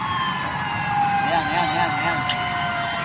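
A fire truck siren wails with a rising and falling sweep during a fire near Parañaque City, fairly close and loud over street noise and smoke-filled chaos, while a person talks in the background.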